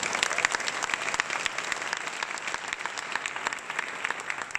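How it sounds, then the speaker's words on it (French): Audience applause at the Art and Humanity prize ceremony in Geneva, a steady, dense burst of many hands clapping that holds at an even level throughout, with no voices over it. "Vous pouvez une fois encore les applaudir s'il vous plaît."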